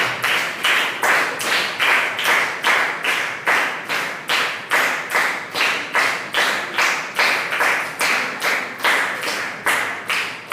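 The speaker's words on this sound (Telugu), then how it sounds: "చప్పట్లు ప్లీజ్" A church congregation at a Sunday Holy Mass claps together in a steady, even rhythm of loud, closely spaced claps, sustained throughout without any talking.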